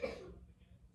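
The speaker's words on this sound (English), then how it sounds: "My baby's still coughing." A baby's cough sounds once as a short burst at the start, then fades into quiet room noise.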